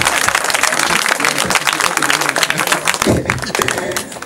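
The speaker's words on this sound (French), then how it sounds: "Applaudissez." Audience applause at a live launch event for a single: dense, continuous clapping fills the whole stretch at steady loudness, with crowd voices mixed underneath.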